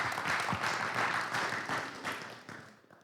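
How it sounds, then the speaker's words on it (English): Audience applauding a panel at the end of a talk, a steady wash of many hands clapping, moderately loud and tapering off over a few seconds. "applause again on the panel here"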